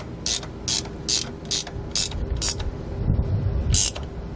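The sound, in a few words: ratchet with 3/4 inch socket tightening tow bar bolts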